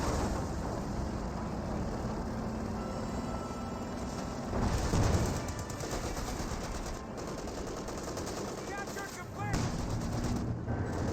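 Hull-mounted and coaxial machine guns on a Panther tank rattle in bursts through a Company of Heroes 2 battle, mixed with heavier booms and other battlefield clatter, with a voice speaking over the din.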